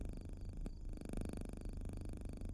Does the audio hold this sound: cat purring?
yes